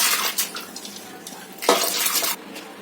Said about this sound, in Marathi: याच्यामध्ये मी अजून थोडे पाणी टाकत आहे